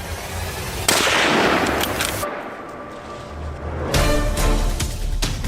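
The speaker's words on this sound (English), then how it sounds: "The gunshot tears in the silent air, and the prey collapses" A sharp, loud rifle shot cracks out during a wild boar hunt, followed by a rumbling echo and a second burst of noise near the end.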